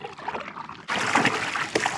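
A dog peeing at a provincial park lake beach, a sudden splashing trickle that starts partway through and continues close by, following a quieter stretch of faint outdoor sound.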